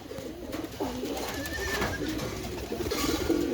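Giribaz pigeons cooing close by in a flock, overlapping soft throaty rolling coos repeating throughout over a low background hum.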